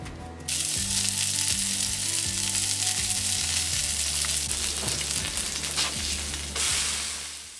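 Burgers fry on a griddle with a steady, loud sizzle that holds the whole way through, punctuated by occasional light scrapes and taps, with no talking.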